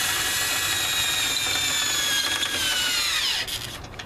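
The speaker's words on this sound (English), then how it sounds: "I went and got the drill because it's just so much easier than cranking it" A cordless drill drives the crank on a pop-up camper's stabilizer jacks, a loud close whirring motor that winds steadily with a slight pitch drop before slowing and stopping near the end.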